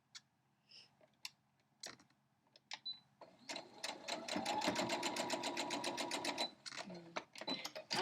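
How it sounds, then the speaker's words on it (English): A sewing machine stitches a straight quilting seam on a block, a steady continuous run of needle strokes for a few seconds, preceded and followed by scattered clicks and handling noises. "And then I sew a straight line down."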